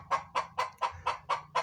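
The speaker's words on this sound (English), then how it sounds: "my chicken's laid an egg, so my male rooster's going nuts" A rooster goes wild after a hen lays an egg, letting out seven evenly spaced, loud squawking clucks in a steady rhythm over a faint low hum.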